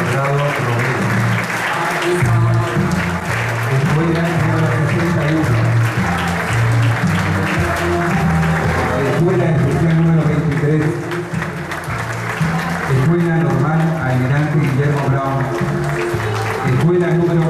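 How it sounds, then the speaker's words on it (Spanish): Crowd applause greeting the ceremonial flags at an outdoor 17 August event in Caá Catí, steady clapping running throughout under band music and an announcer's voice. "Recibamos con un fuerte aplauso a las banderas de ceremonia"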